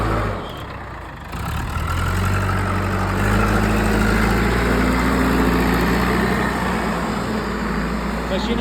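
A JCB excavator engine runs steadily at night at a municipal work site, a continuous low rumble that fills the clip after a brief dip near the start, with faint background noise throughout.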